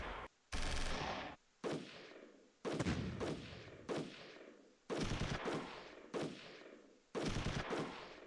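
Heavy artillery and gunfire from the strategy video game Shadow Empire, about seven loud booming volleys with sharp onsets, each decaying over roughly half a second to a second, in an irregular rhythm with no talking.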